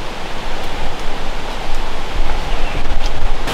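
Waterfall near Souillac, Mauritius, seen from across the river: a steady broadband roar of falling water, constant and fairly loud throughout with no voices.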